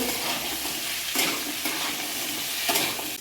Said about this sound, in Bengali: কচুটা আলুটা ভালো করে লাল লাল করে ভেজে নেব